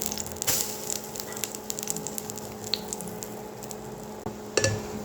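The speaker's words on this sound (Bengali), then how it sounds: "উল্টিয়ে পাল্টিয়ে আমি দুই পাশ সুন্দরভাবে ভেজে নিয়েছি" An egg and vegetable paratha fries in a pan after being flipped, giving a steady soft sizzle broken by scattered pops and a few utensil clicks, with no talking.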